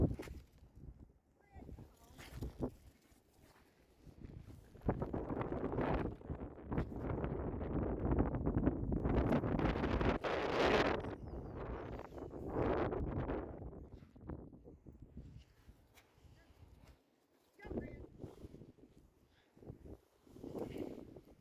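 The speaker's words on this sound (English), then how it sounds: "It's so windy out here that one of the porta potties fell over." Strong wind gusts blow across a cemetery in Paducah, Kentucky, roaring loudly against the microphone in long surges that fade between gusts, with a person talking nearby through much of it.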